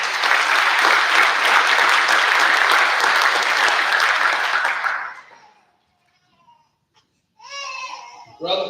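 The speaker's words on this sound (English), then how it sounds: "Please stand and round of applause." Sustained, loud audience applause at a corrections officers academy graduation fills an indoor hall for about five seconds, then fades to quiet before a voice speaks.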